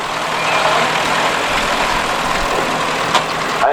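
A vintage tractor engine idles steadily at a show, a loud, continuous mechanical drone with outdoor hiss and no talk.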